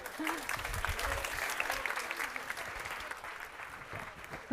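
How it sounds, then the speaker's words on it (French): Audience applause at a medical simulation competition match, steady dense clapping from a crowd throughout, with a voice speaking briefly over it near the start. "Vous pouvez les applaudir."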